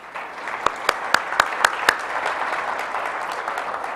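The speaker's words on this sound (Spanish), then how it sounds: "Un aplauso, por favor." Audience applause for a speaker at an education panel, a soft steady patter of clapping from a modest crowd, with a few sharper individual claps standing out early on.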